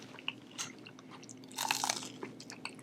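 Crunchy sushi being bitten and chewed close to the mic, a few crisp crunches bunching into a denser burst partway through, with no talking.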